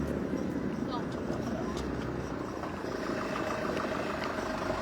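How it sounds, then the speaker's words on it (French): A tractor arrives at a distance, its engine a steady low rumble that holds throughout with no clear change in level, as people talk nearby. "Voilà, le tracteur arrive."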